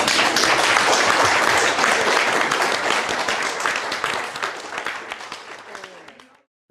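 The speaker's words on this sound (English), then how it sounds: "let's give one last round of applause" A university reading audience gives a final round of applause, dense clapping that starts full and gradually thins and fades out near the end.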